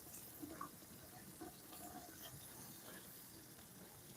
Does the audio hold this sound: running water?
yes